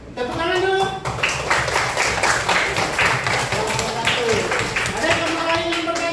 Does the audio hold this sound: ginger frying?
no